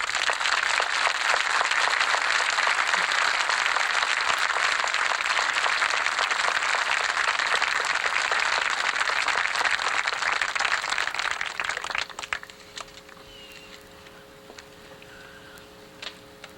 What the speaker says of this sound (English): I think each of these people now deserve a great big round of applause